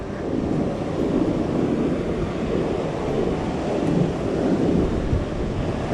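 Steady rushing roar of ocean surf beside a beach road on a large sand island, a continuous loud wash heavily mixed with wind buffeting the microphone, no distinct separate breakers.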